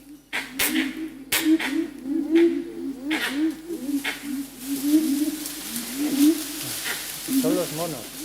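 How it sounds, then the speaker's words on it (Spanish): Monkeys call at six in the morning in tiger country, a steady run of repeated, rising and falling hooting cries that carry continuously and sound fairly close. "Son los monos. Se hace el ruido."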